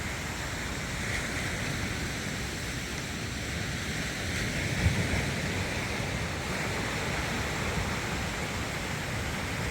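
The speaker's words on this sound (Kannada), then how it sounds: "ಆ ಸೌಂಡ್ ನೋಡಿ, ಅಲೆಗಳು ಹೆಂಗೆ ಬರ್ತಾ ಇದೆ ಅಂದ್ಬಿಟ್ಟು." Sea waves break continuously along Kundapura beach at dawn, with boats nearby, forming a steady, broadband wash of surf that swells slightly midway, with no voices over it.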